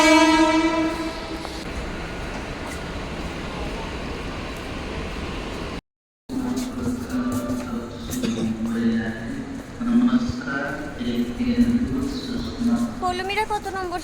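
A train at Parel railway station in Mumbai sounds a long, loud, steady horn, then rumbles and clatters along the platform while people talk nearby.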